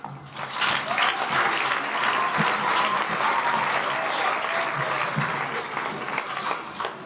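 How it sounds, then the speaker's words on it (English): Audience applause at a Wizard of Oz stage show for the performer playing the cat, sustained dense clapping that holds steady for several seconds before thinning slightly at the end. "Give a round of applause for the cat."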